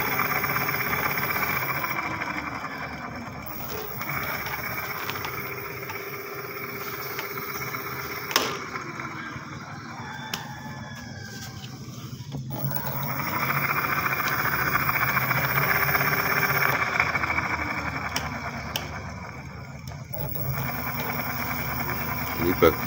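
An electric bicycle motor whirs with a steady high-pitched whine during a throttle test on a faulty bike, its pitch shifting as the throttle changes, with someone talking over it throughout.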